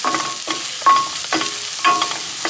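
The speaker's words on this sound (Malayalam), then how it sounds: "നമ്മുടെ ഇഞ്ചി വെളുത്തുള്ളി പേസ്റ്റ് ഒന്ന് മൂത്തുടങ്ങി" Ginger garlic paste and chili powder fry in a pan for salna while being stirred, giving rhythmic scraping strokes about every half second over a soft, steady sizzle, close and without talk.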